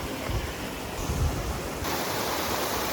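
A mountain creek rushes steadily along a forest trail in the Washington Cascades, a loud continuous broadband wash of flowing water with no voices.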